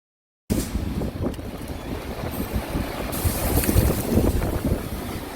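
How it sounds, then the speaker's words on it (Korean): Strong wind buffets the microphone outdoors in Jeju, a loud continuous rushing roar with gusts swelling toward the end. "바람이 너무 분다"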